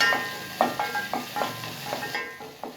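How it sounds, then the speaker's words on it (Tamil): Chopped onion sautés in butter in a pan for okra soup, a soft sizzle broken by a regular series of light scraping stirs. "இந்த வெண்ணெயில் வதக்கி விட்டுறலாம்."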